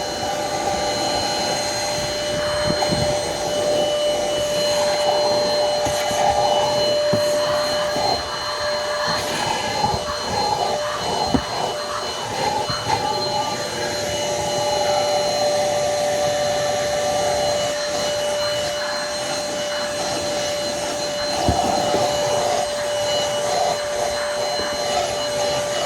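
An APOSEN H20-4 cordless car vacuum cleaner runs continuously at close range inside a car, a steady whirring motor drone with a constant high whine and shifting suction noise as it moves over the interior, with no talking.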